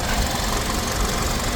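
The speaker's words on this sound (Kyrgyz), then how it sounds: "Мотордун иштеши деле жакшы." A car engine idling steadily with a low, even rumble and faint rhythmic knock, close and continuous with no talking.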